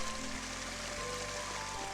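Water falling about 50 metres down a mountain stream onto rocks, a steady broadband rush that holds constant and fairly loud throughout, with no voices.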